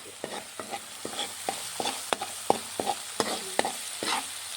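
Onions frying in a pan for chicken fry, a soft sizzle under a rhythmic series of spoon scrapes and taps against the metal, roughly a dozen strokes at an even pace, close and moderately quiet.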